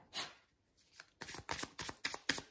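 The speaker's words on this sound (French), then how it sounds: "mélanger les cartes. À nouveau." Tarot cards being shuffled by hand, a short riffle followed by a series of quick rhythmic card flutters, close and fairly soft, with no speech.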